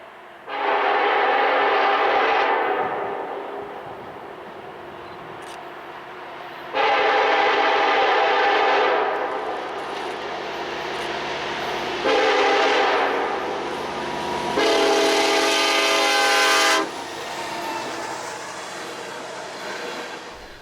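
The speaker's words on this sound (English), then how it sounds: "CN8819, yet another CN SD70M-2, is the sole leader for the Superior to Northtown." A CN freight train led by an SD70M-2 locomotive sounds its horn in four loud blasts, long, long, short, long, over a continuous rumbling roll of the train passing nearby.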